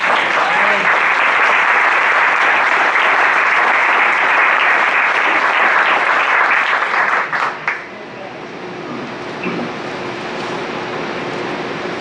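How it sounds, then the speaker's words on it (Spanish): Sustained applause from a church congregation during a Sunday service, dense and steady for about eight seconds before fading into lighter scattered clapping and room murmur. "Un aplauso al Señor."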